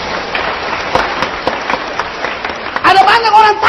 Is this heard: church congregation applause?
yes